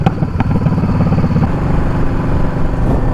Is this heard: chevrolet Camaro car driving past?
yes